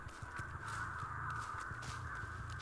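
Crows caw repeatedly in a video game, a steady string of harsh calls over a constant ambient hum, moderately distant and fairly faint.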